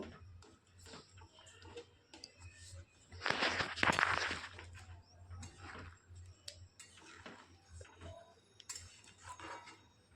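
A spatula stirring paneer gravy with potatoes and ground melon-seed paste in a pan over a low flame, quiet irregular scraping and ticking clicks with one louder burst of rattling stirring, close and faint overall.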